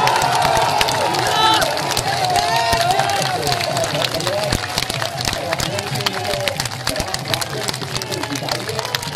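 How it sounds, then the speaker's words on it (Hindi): A large political rally crowd claps and cheers in honour of army soldiers, a loud, dense roar of applause and voices in the open air, with a speaker's amplified voice carrying over it. "एक बार सारे लोग हाथ उठाकर देश के सेना जवानों के सम्मान में तालियां बजाकर उनका अभिनंदन"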